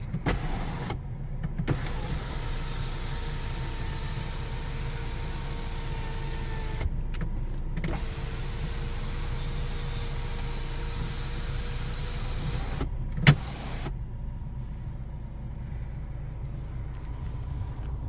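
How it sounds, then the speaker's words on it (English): Sunroof motor of a 2016 Mini Cooper S with JCW kit and 6-speed, a steady electric whir inside the cabin lasting over ten seconds with brief clicks at start and stop, low hum underneath, no talking. "And here's our sunroof."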